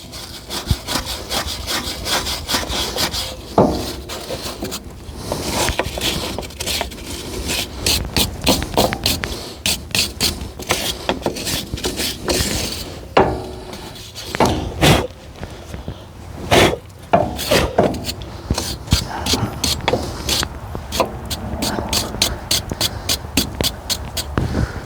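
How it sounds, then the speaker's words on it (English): A wire brush scrubs hard and fast against a Ford Ranger wheel hub, making a continuous harsh rasping with rapid back-and-forth strokes, close and loud throughout. "Get my wire brush. Try to clean this up the best I can."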